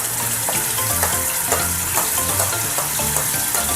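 Ginger garlic paste sizzles and spits in hot oil in a pan on a home stove, a steady, close, dense crackle with scattered sharper pops throughout, no voices.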